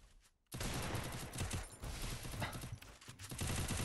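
Dense rapid gunfire from the Free Fire battle game in a 1v1 match, a sustained loud burst of shots starting abruptly and continuing with brief dips.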